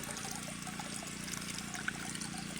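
Spring water trickles steadily from a small rural source while someone fetches water, a soft continuous splashing and dribbling close by with low background murmur.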